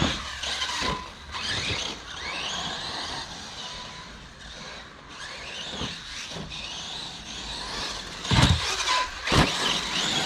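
An off-road car's engine runs at half throttle outdoors, a rough steady drone that swells and dips, with a couple of sharp louder bursts late on.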